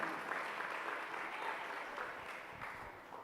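Church congregation applauding during a Sunday service, a fairly faint, steady wash of clapping from many hands that holds evenly for a few seconds and slowly tapers off.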